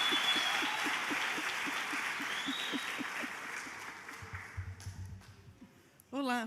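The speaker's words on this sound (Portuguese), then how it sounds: "Aplaude, minha gente!" Applause from a crowd at a university academic lecture holds steady for several seconds before thinning out, with a voice briefly heard near the end.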